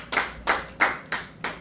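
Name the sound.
congregation clapping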